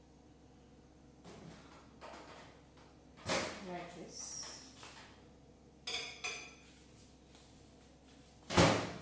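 A microwave door opens and shuts with clatters of dishes being handled while cooking tandoori chicken at home, a few sharp knocks and thuds spread over a quiet room, with brief speech.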